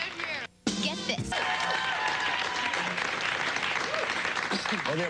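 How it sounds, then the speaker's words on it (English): Live studio audience at a Toronto music television broadcast, bursting into loud, dense applause and cheers after a brief drop, holding steady with shouts and whoops on top. "the applause continues live here in the Much environment"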